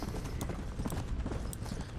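Horse hooves clip-clop steadily while riding in Red Dead Redemption: Undead Nightmare, a continuous rhythmic trotting under dense game ambience, fairly loud and without talk.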